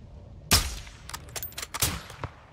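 Sniper rifle shots in Call of Duty Modern Warfare 2: a sharp loud crack followed by several quicker, fainter shots and echoes over a couple of seconds.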